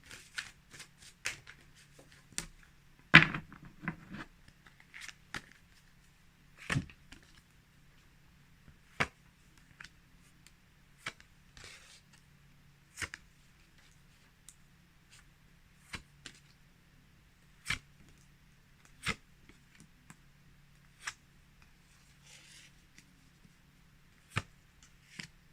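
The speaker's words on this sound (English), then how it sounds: "Shuffle." Tarot cards being shuffled by hand, a long run of sharp, scattered taps and riffles with quiet gaps between them, close and fairly faint over a low hum.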